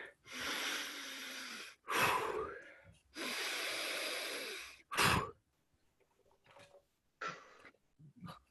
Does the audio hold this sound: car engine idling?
no